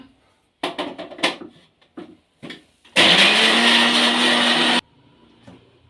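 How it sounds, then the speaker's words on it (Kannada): A mixer grinder runs loud and steady for about two seconds, grinding a boiled drumstick mixture with water, after a series of brief knocks and handling sounds as the jar lid is closed. "ರುಬ್ಕೊಳ್ಳೋಣ"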